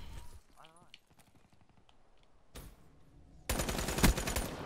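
Gunfire in Call of Duty Black Ops 3 during a hardcore Capture the Flag match: scattered shots give way to a loud sustained automatic burst near the end, over game noise, with some faint voice chatter.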